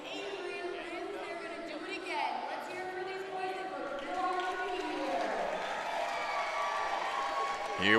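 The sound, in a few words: crowd cheering at Ninja vs Ninja competition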